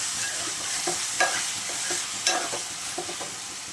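Raw banana pieces with dried prawns are stirred in a hot pan, with repeated scraping spoon strokes and light clinks over a soft continuous sizzle, close and without voices.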